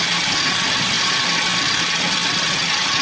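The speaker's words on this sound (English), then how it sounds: "This bike is too noisy." An old exercise bike being pedalled makes a loud, constant mechanical whirring and rattling drone, close and unbroken, with no voices.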